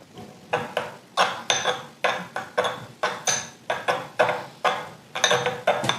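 A spoon stirring horseradish sauce in a bowl, a steady run of clinking metal-on-dish knocks in an even rhythm, close and fairly loud.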